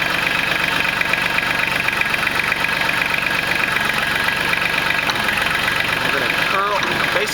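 A Mahindra Max 26 XL compact tractor engine running steadily in low range while creeping slowly, a loud, close and constant diesel rumble with some knocking texture throughout.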